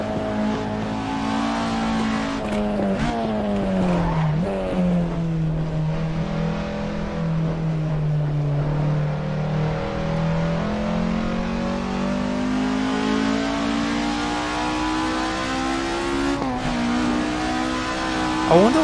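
A car engine at speed in Assetto Corsa holds a loud, continuous tone close up. Its pitch dips and climbs with throttle and gear changes over nearly twenty seconds, with no talking.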